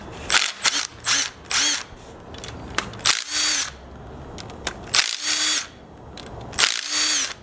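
Impact wrench firing in repeated short bursts, close and loud, as corroded bolts come off an old car part, with brief pauses between rattling hits.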